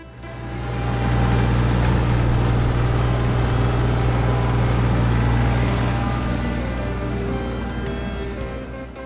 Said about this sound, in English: Tractor with tanker.